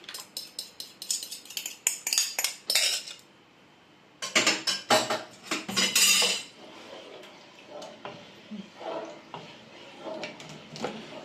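A metal spoon stirs a chicken mixture for shakshuka-style cooking in a pot, giving bursts of rapid clinking and scraping against the pot, pausing briefly and then resuming, with softer scraping later under quiet background.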